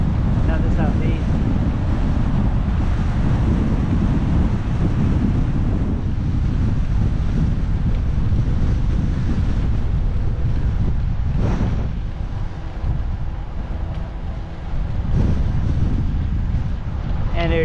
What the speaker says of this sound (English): The wind's from the southwest, not the southeast.